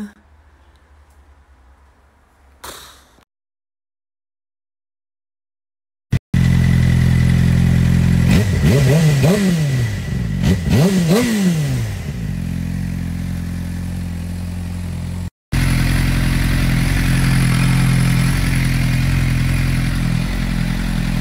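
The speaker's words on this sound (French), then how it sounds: "Avec ce beau temps, j'ai sorti la moto." A motorcycle engine starts after a pause, idles with a steady rumble, revs up and down several times, then keeps running loudly.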